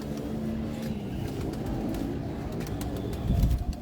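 Pigeons coo on a Lahore rooftop loft, a steady low murmur of overlapping calls running throughout, with a louder burst of fluttering or movement near the end.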